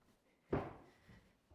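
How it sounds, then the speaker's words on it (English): A farmhouse back door opens with a single sharp knock-and-swing thump near the middle of the clip, followed by a short softer rumble as it settles, in an otherwise quiet hallway. "I'm now going to show you out of the back door"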